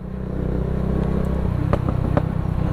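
Heavy truck passing on the Halsema Highway mountain road in Atok, Benguet, a loud steady low engine rumble with clattering knocks toward the end, close by.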